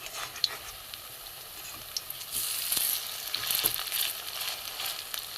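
Jukt flower fritters fry in hot oil in a pan, giving a soft, continuous bubbling sizzle that grows louder and busier about halfway through, with no voices.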